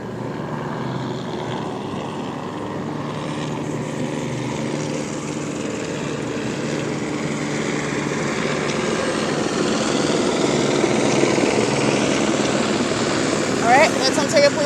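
An Ontario Police Department helicopter passes overhead as a steady, moderately loud droning rotor and engine hum that builds slightly toward the end.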